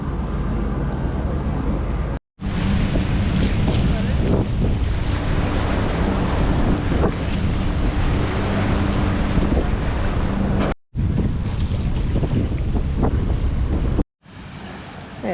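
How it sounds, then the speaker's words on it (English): A small boat's motor drones steadily over loud wind and rushing water on the way to Lady Musgrave Island, Great Barrier Reef, with brief cuts in the recording. "Here's our smaller boat to take us over to the island"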